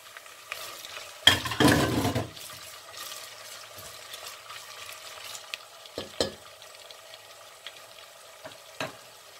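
Onions frying in a pan, a soft steady sizzle with a louder burst of spattering near the start and a few sharp pops and clicks of stirring later on.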